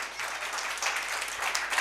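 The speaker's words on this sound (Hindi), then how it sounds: "आए आज के कलाम के लिए जोरदार तालियां बजाएंगे" A church congregation claps in a short burst of dense, lively applause, fairly close and steady, with no voices over it.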